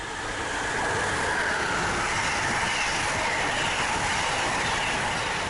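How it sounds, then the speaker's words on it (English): A New Jersey Transit train speeds through Princeton Junction station without stopping, its steady rumbling roar and wheel noise swelling in quickly and holding loud and close throughout. "Usually, NJT trains stop at Princeton Junction, but not this one."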